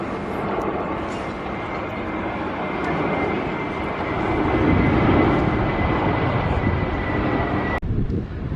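An airplane passes overhead on its descent to land near the Turkish coast, a loud, continuous engine roar that swells toward the middle and then cuts off abruptly near the end.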